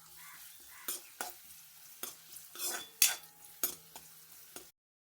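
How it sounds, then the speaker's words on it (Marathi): Usal, a sprouted-bean curry, frying in a pan with a soft steady sizzle, broken by repeated sharp scrapes and clinks of a spoon stirring against the metal, close by and alone. "म्हणून मी त्याच्यासाठी उसळ बनवते"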